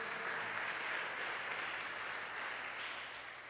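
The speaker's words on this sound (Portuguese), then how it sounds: "Vamos aplaudir o Senhor Jesus bem forte." Church congregation applauding in praise of Jesus at Igreja da Graça in Codó, Maranhão, a steady wash of clapping from many hands, moderately distant, fading slightly toward the end with no voices.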